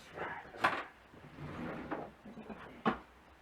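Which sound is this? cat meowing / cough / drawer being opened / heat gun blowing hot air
drawer being opened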